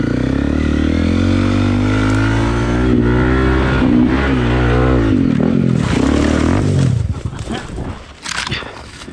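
A Honda Monkey 125 motorcycle climbing a hill in first gear, the engine droning loud and close with rising and falling revs, then cutting out into rustling and scuffling near the end.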